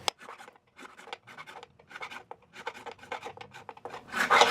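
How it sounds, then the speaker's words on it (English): Sandpaper stacked on a scrub block rubs across a guitar fretboard being radiused to a tight 7 1/4 inch curve, 400 grit; a close, steady series of dry rasping strokes, growing louder and denser at the end. "So I got the sandpaper all stacked on the scrub block. We're starting with 400."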